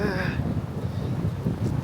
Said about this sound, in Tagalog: Hangin pa nga.